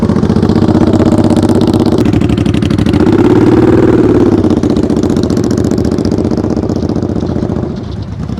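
Motorcycle engine running steadily at low revs during slow-speed riding practice, a continuous close idle-like hum with light rattle and clatter, rising slightly midway and easing toward the end, with no talking.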